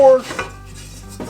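Vintage camping plates and bowls being handled, with a loud clatter of dishes at the start, then quieter scraping and clinking, and another sharp clink at the end.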